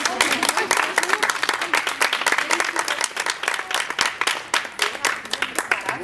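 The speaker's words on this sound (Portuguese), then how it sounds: "Vamos aplaudir o seu francês" A crowd applauds steadily, dense clapping filling the whole stretch without a break.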